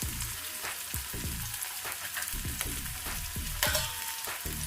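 Green peas frying in a pan give a crackling sizzle with frequent popping and spattering, near and fairly loud, while a utensil stirs now and then.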